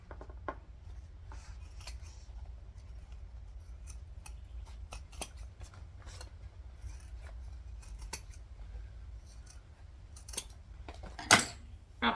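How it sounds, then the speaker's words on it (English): Repeated crisp snips of vinyl scissors cutting vinyl corners for a handbag, close by and fairly quiet, with a louder cluster of cuts near the end. "we're going to cut with our vinyl scissors all of this out of those little corners"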